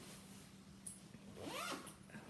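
Zipper pulled along the back pocket of a Lug bag, a quiet rasping run near the mic with a brief faster zip toward the end over soft room noise.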